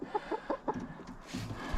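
A few soft clucks in quick succession from bored chickens pecking near nest boxes, close by, followed by a brief rustle, fairly quiet overall.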